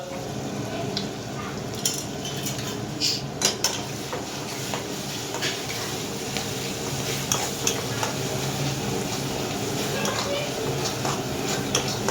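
Spice masala of turmeric, coriander powder and red chili powder sizzles in oil for egg curry, with a spoon stirring and scraping the pan steadily and close by while a person talks.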